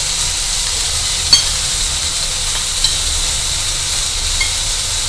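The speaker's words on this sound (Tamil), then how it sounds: "அடுப்பை ஆஃப் பண்ணிவிட்டு தேங்காயை வந்து அந்த சூட்லேயே ஒரு பெரட்டு பெரட்டிக்கலாம்" Grated coconut turned with roasted red chillies in a hot pan with the stove off, giving a steady hissing sizzle with a few faint spatula ticks.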